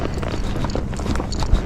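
Hooves of a young Tennessee Walking Horse under a rider, giving a quick, uneven clip-clop of gaited footfalls over a steady background, close by and fairly loud.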